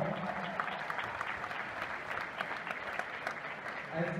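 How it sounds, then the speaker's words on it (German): Spectators applaud at a women's gymnastics league competition day, an even wash of many hands clapping from a hall crowd, moderately faint and sustained, with a voice near the end. "Beifall vom Publikum."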